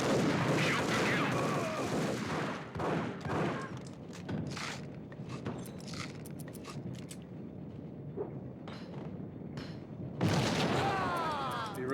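Gunfire in the video game Max Payne: repeated loud shots and bursts crowd the scene, with a dense volley at the start and another near the end, separated by scattered single cracks and booms.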